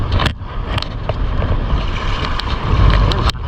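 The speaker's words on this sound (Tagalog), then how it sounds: "Talaga hangin." Strong wind buffets the microphone with low rumbling gusts, with a few sharp knocks and taps close by, during handline fishing on the shore at Calumbuyan, Calatagan, Batangas.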